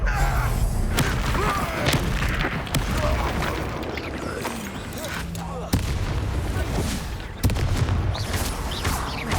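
Fiery spell blasts from the Confringo curse boom through a Hogwarts Legacy duel, dense and continuous with sharp thuds and crackling bursts layered over game music and combat noise.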